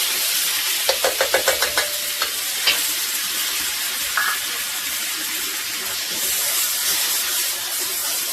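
Onions frying to golden in a hot pan for a large batch of veg pulav, a steady loud sizzle and hiss with a quick run of stirring scrapes and clinks near the start.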